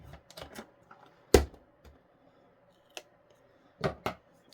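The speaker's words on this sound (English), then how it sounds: "I'm going to trim off a smidgen of this." Scissors snip paper being trimmed for a scrapbook layout, a few sharp close cuts and crisp rustles spaced irregularly, with one loud snip early and a quick double cut near the end, in an otherwise quiet room.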